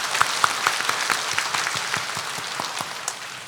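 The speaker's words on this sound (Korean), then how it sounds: "우리 하나님께 감사 박수 올려드리겠습니다." A church congregation claps together during a Sunday worship service, a steady round of applause that fades gradually over a few seconds with no talking over it.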